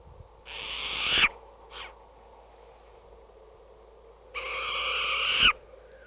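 A screechy owl call, the kind heard from owls nesting in Vermont grasslands: two loud, harsh, hissing screeches a few seconds apart, each ending in a sharp peak, with a faint short rasp between them.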